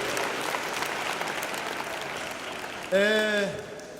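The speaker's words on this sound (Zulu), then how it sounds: "sicela ukushayela ihlombe elikhulu iSwaziland because umsebenzi uyaqhubeka" A crowd at a church youth gathering claps loudly for about three seconds, then the applause fades as a voice begins to sing or speak.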